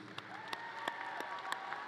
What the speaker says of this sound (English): How about another round of applause for all those students?